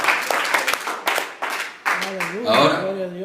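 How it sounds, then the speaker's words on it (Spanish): Congregation in a church clapping hands together loudly, a dense continuous burst of applause with voices mixed in toward the end. "dámosle al Padre una oferta de palmas, pero que se oiga recio, recio, recio al Padre"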